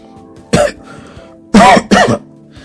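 Three harsh, abrupt coughs, one then a quick pair, close and loud against a quiet background.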